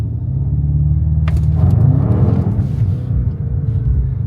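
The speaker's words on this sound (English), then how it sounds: "So that is how easy it is to do launch control in the 2025 BMW M5" A 2025 BMW M5 pulls away under launch control, a loud, steady engine rumble from inside the car that swells into a hard acceleration, with no talking.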